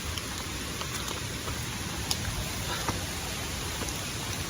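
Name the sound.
heavy rain while walking to waterfalls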